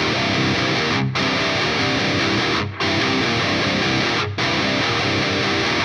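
Heavily distorted electric guitar plays a verse riff, a dense, loud, sustained chug with three brief full stops breaking it at even intervals; no voices.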